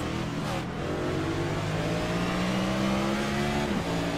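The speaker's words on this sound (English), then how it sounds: "Hits third gear down the front straightaway into fourth, deep into one on the brakes" A stock-style race car engine in a BRR Cup series race at New Hampshire, accelerating hard through the gears down the front straightaway, loud and sustained with the pitch climbing, then dropping at a shift.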